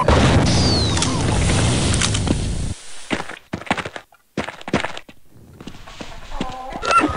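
Chickens cluck in the horror video game They Hunger, loud and close at first over a dense game soundscape, then broken into short scattered clucks and thumps after an abrupt drop to near silence.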